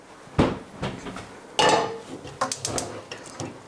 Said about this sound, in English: I'm going to take a little frying pan with a little bit of olive oil